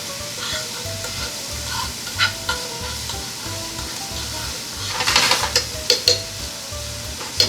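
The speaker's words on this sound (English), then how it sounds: "Now let's just saute all this." Ingredients for bucatini carbonara sauté in a hot pan with a constant close sizzle, steady rhythmic scraping strokes underneath and a flurry of sharper clacks of utensil against pan toward the end.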